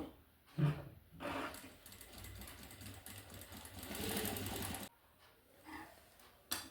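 Sewing machine stitching a blouse sleeve, a quiet rapid mechanical whir running steadily for about four seconds after a few short starts, then stopping, with faint knocks around it.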